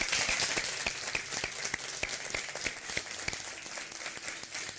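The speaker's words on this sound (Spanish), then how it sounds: "Os despedimos con este aplauso." A studio audience applauds to close a TV program, a crisp, fairly quiet patter of many hands with distinct individual claps standing out, continuous and even.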